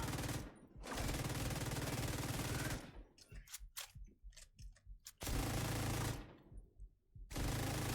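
An LMG in The Division 2 fires at a very high rate in long, loud, continuous bursts, broken by short pauses filled with scattered shots and battle noise.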